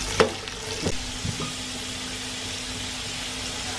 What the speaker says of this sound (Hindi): अब ये आलू फ्राई करेंगे।